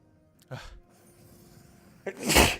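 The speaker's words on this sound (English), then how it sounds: "Big sneeze." A short sharp intake, then a pause and a loud explosive sneeze close to the microphone.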